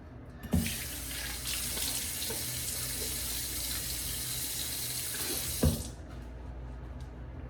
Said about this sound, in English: let me go ahead and rinse off my face a little bit